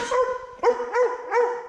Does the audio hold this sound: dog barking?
yes